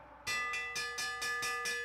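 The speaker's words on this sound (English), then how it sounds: "Here's the bell lap, bell lap." A bell rings out repeatedly for the final lap of a track cycling race, six or seven bright, evenly spaced clangs up close with ringing overtones.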